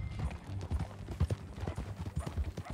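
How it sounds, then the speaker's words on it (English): Horse hooves clip-clop in rhythmic clusters as a thoroughbred race horse is ridden in the video game Red Dead Redemption 2, close and fairly loud, with faint game sounds underneath. "Get on your horse, John. Follow me. Let's ride."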